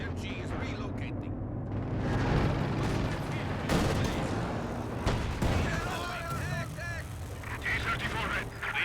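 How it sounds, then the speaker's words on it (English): Video game battle with mortar impacts and gunfire, rolling rumbling blasts and sharp shot crackles layered densely throughout, with a dramatic boom near the middle and continuous battlefield noise. "There's a mortar hit."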